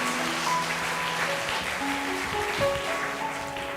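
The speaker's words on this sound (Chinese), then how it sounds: "我们拍手祝福他们" A church congregation applauding during a Sunday worship service, steady clapping filling the room for a few seconds with music tones lingering underneath.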